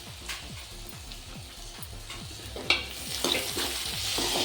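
Onion, chilli and fresh coriander sautéing in a pan, the close sizzle broken by regular stirring strokes that grow louder and hissier toward the end, with no talking.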